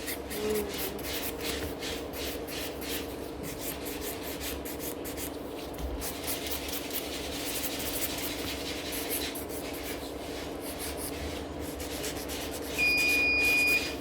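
Steady rhythmic rasping of a nail file shaping acrylic salon nails into a coffin shape, close and continuous stroke after stroke, with a faint high electronic tone near the end.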